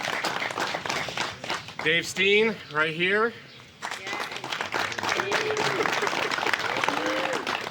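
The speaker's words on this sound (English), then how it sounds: "Give him a little round of applause." Guests at a Kappa Sigma chapter house dedication clap for helpers, a spread of crowd applause running under a voice announcing names, then continuing as a steady patter.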